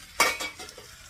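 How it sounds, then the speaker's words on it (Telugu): Cut okra curry cooking in a pan, a short stir with a sharp utensil scrape against the metal, followed by a few softer clinks over a faint sizzle. "ఇక్కడైతే ఇప్పుడే బెండకాయలు కట్ చేసేసి కూర వండుతున్నాను అనమాట"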